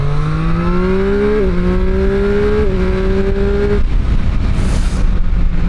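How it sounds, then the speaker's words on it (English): A Triumph Street Triple 765 RS Moto2 Edition motorcycle at full throttle in third gear: a loud, steady, rising engine howl with two brief dips at upshifts, then a rushing roar of wind and road noise. "Oh, finally full gas in third."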